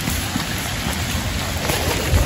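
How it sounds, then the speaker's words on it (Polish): Heavy rain pours down in a steady, dense roar that fills the whole stretch evenly, close and loud, with no one speaking. "po prostu pada jak cholera. Nic nie widać. Leje jak z cebra."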